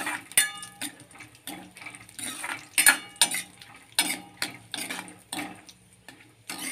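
A spoon stirs sago kheer in a pot, making a run of close, irregular metallic clinks and scrapes against the pot, with no speech.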